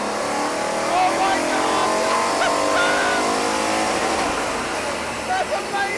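A modified project car's engine revs hard and loud through a dyno run on a supercharged setup, a sustained roaring pull with an excited voice calling out over it.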